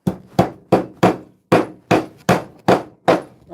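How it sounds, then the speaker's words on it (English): A Klein Tools hammer strikes nine sharp, evenly spaced blows, each ringing briefly before the next, close and loud with no voices. "I want to test this hammer out"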